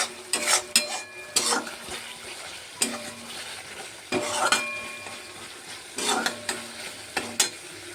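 Spice paste frying in oil in a pan, with repeated bursts of stirring and scraping against the metal over a low sizzle, close and moderately loud, with no talking.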